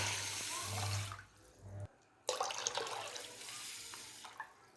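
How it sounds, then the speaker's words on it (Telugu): Water poured from a glass into a pot of uncooked white rice for cooking, a close, steady splashing stream in two pours separated by a short silent pause. "సో అందుకని నేను 3 గ్లాసెస్ వాటర్ పోసాను"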